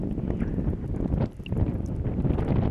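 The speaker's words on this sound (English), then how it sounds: "Very windy" Strong wind buffets an open site of bubbling mud volcanoes, roaring steadily and close with gusty rumble throughout, drowning out the bubbling.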